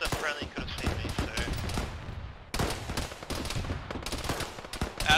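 Dense, continuous gunfire in a military video game, with overlapping rifle bursts and scattered shots running under muffled voices throughout.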